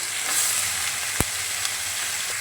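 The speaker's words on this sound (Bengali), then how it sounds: "এখন আমি এখানে পটল আলু কেটে রেখেছিলাম আগে থেকে ধুয়ে তো এখন আমি তা অ্যাড করে দিচ্ছি এখানে মশলার মধ্যে" Chopped pointed gourd and potato drop into a pan of sizzling spice paste in a Bengali home kitchen, giving a steady close frying hiss with a sharp stir or clatter partway through and no talking.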